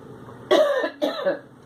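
Two quick coughs, close and fairly loud, a short one followed by a slightly longer second cough, then quiet.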